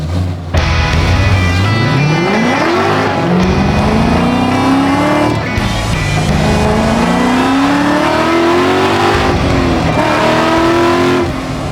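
Car on a drive, its engine loud and close, revving up through the gears in rising sweeps with shifts between, carrying on steadily without speech.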